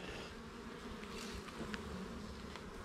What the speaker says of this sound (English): this is the flow hive, and Taylor's never even been in a flow hive